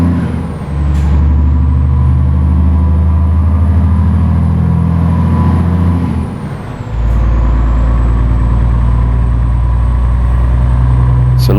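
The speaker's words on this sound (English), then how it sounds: "Listen to the old L6 scream." Scania R480 truck with an inline-six engine in Euro Truck Simulator 2, a loud steady engine drone that drops briefly around the middle and then returns, with air-brake hiss near the start and again midway.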